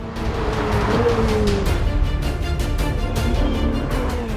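A turbocharged Ferrari 488 Pista being pushed hard on the road, its engine droning loud and close with a rising then settling tone, steady throughout with no speech.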